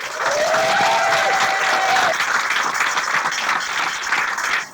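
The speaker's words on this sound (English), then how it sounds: "Please give them a huge round of applause." An audience at a live political comedy show bursts into loud, sustained applause that fills the whole stretch, dense clapping with a brief whistle near the start.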